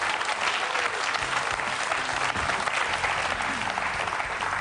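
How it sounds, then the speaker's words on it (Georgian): A live comedy-show audience in Lazika applauds warmly for the town's mayor, a dense, steady wash of clapping with faint crowd murmur that holds at full strength throughout. "ახლა თქვენი მხურვალი აპლოდისმენტების თანხლებით"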